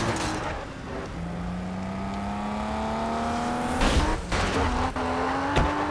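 A sports car engine in GTA San Andreas with a remastered high-quality sound pack, a loud steady drone climbing slowly in pitch as the car accelerates, with a couple of brief gear-change dips near the end.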